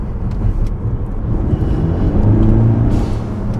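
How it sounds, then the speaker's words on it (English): A turbocharged car with its muffler deleted rumbles close by, its exhaust swelling into a deeper, louder rev toward the end without any talk. "There's good sound to it. Turbo muffler delete has actually allowed a lot more."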